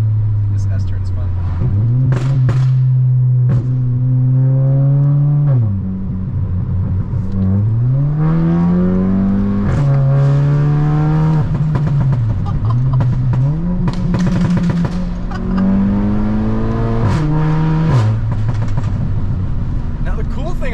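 Tuned Audi A3 engine revving and pulling hard through repeated gear changes, rising and dropping in pitch with occasional pops, loud and close from inside the car.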